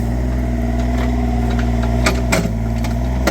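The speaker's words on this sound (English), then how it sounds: "So he's moving them out of the way with the excavator." A heavy excavator engine runs at a steady idle, low and close, while it shifts old truck engines aside, with a few brief knocks near the end.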